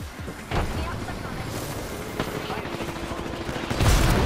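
Apex Legends ranked Arenas firefight with scattered gunshots and sharp cracks over a busy game background, and a player talking over the action.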